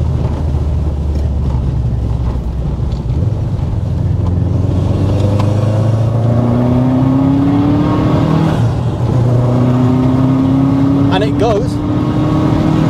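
A Subaru Forester STI SG9 wagon with a 350 bhp engine pulls hard from inside the cabin, its engine note climbing through the gears with rising whine and shifts, under steady road and wind noise, with someone talking.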